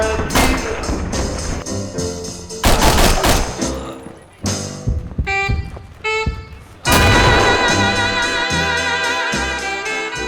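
Pistol fire rings out in the 2008 war shooter Darkest Hour with an Italian faction, loud sharp shots in irregular bursts, layered with echoing blasts and a sustained ringing tone after a final heavy bang.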